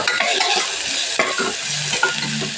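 Ginger garlic paste frying for biryani gives a loud close sizzle, broken by quick scraping stirs and clinks of a spoon against the pan, with no voices present.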